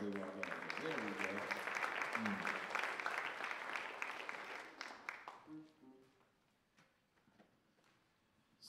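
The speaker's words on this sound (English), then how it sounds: "Give them a round of applause as they walk out." Audience applause at a jazz concert as performers walk out, a dense, sustained burst of clapping that fades away after about five seconds, with a voice speaking under the tail.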